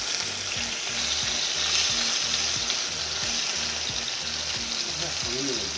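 Steak searing in rendered bacon fat in a pan, a loud, continuous sizzle and crackle with muffled voices murmuring underneath.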